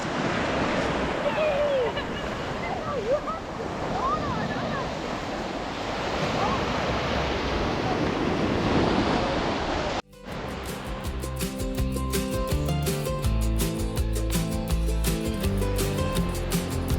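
Waves break on a Costa Brava beach in Spain, a steady roar of surf with wind buffeting the microphone, heard up close. Midway it cuts abruptly to a busier, more textured stretch of the same shoreline noise.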